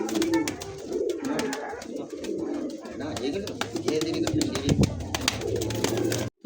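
Pigeons in a bird seller's loft coo repeatedly and continuously at close range, while people talk over them throughout.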